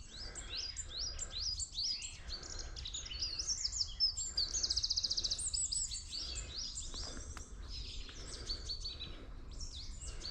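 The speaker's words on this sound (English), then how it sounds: "The birds are busy today." Birds chirp and tweet busily in woodland during a 30 km long run, many overlapping calls near and far with a rapid trilling burst in the middle, no talking over them.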